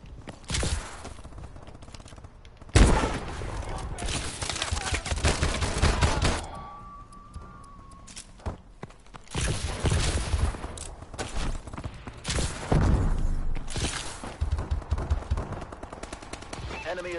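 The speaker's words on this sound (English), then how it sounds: "It's like they pit me in the middle of gunfire." Bursts of automatic gunfire from a PS4 shooter video game rattle in loud clusters with pauses between volleys, with a player's voice talking in places.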